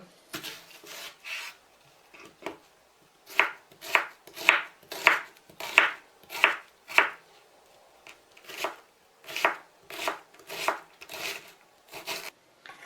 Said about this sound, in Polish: I na koniec pokroję w kostkę cebulę.